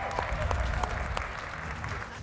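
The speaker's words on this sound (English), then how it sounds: "Let's give them a round of applause as well." A short burst of audience applause at a Mr Gay World South Africa 2021 pageant show, dense clapping that stays fairly even before tapering slightly at the end.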